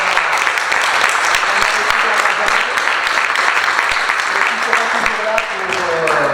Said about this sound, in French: Je pense qu'il faut applaudir Stéphanie qui a fait vraiment un super travail.